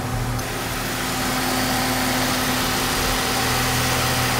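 An ARP pump that also drives an air compressor runs continuously with a steady, loud mechanical hum and engine-like drone, with no talking.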